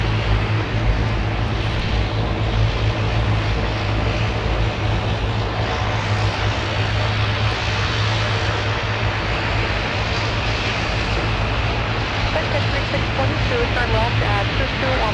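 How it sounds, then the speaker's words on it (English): Turboprop airplanes rumble and drone continuously at MSP airport, a broad steady engine roar with low propeller tones, loud throughout, with voices and radio chatter faintly underneath. "listen to those turboprops purr"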